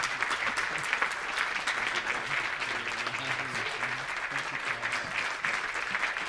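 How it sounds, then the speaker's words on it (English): Audience at an award ceremony applauds an honoree, a steady, dense round of clapping heard up close for several seconds with little else over it. "Ladies and gentlemen, give you a right round of applause for our"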